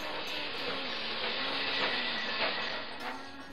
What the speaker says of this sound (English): Grace and the children got on a busy train to Soweto.